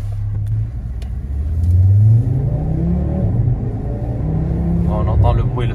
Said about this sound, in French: On entend le bruit, le 5 cylindres, ça reste quand même reconnaissable